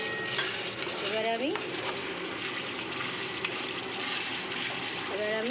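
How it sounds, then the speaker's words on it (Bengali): Water is poured into a pan of jackfruit kofta curry, giving a steady, soft pouring and splashing sound that runs throughout at low level. "এবার আমি পরিমাণ মতন জল দিয়ে দিলাম।"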